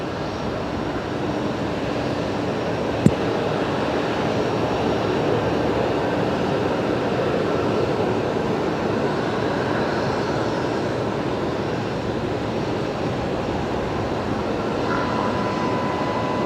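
Steady broadband engine roar of a diverted Qantas airliner from the Gold Coast taxiing at Brisbane Airport at night, heard from a distance, constant with one sharp click.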